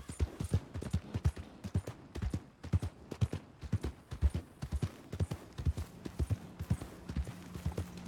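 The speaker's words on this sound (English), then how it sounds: "that's one way to ride a horse" Rapid, rhythmic hoofbeats of a galloping horse in Red Dead Redemption 2, steady and close, continuing throughout with no talking over them.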